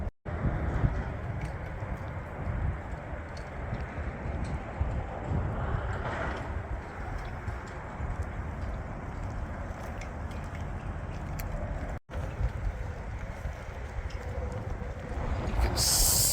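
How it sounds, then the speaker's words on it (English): Cold wind gusts steadily across an open memorial park in the East Mountains of New Mexico, a continuous broadband rush buffeting close to the microphone for the whole stretch, with no talking. "See how the wind is blowing?"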